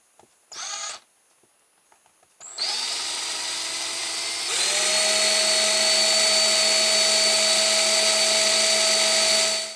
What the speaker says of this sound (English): spin it with the electric drill and hold a file against it